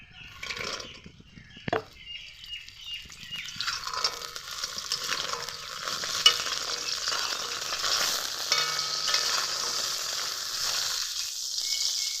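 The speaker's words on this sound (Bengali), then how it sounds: "কড়াই গরম হয়ে গেছে সর্ষের তেল দিয়ে ডালের বড়িগুলোকে প্রথমে ভেজে নেব" Lentil badi fry in hot mustard oil in a wok, a rising continuous sizzle and crackle that grows louder and denser after a sharp clink near the start.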